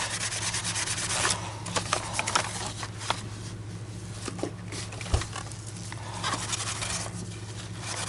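Steel wool scrubs paint off the ABS plastic base plate of a Dyson Small Ball DC50 vacuum, a steady close, loud rasping rub with brief scratchy accents throughout, no talking.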